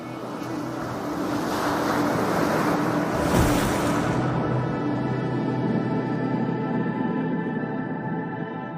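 Strong ocean waves roll and crash along the Salish Sea coast, a loud, continuous broadband wash with a surge near the middle, steady and close with no voices.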